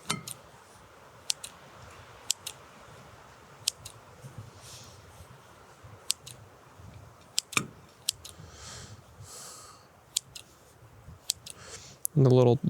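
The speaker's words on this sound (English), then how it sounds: "I'm gonna use some scissors to cut it up" Scissors snipping sticky homemade three-ingredient mochi into small squares, a series of sharp, separate clicks spaced every second or so over a soft background, with a louder thump right at the end.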